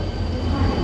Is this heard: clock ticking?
no